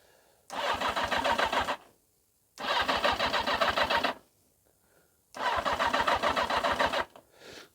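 A 1980 Yamaha XJ650 motorcycle engine cranks over three times in bursts of rapid rhythmic chugging, each lasting about a second or more, with short silences between and no catch.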